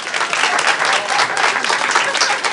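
A Turkish talk-show studio audience claps steadily throughout, a dense, loud, even wash of applause with no pause.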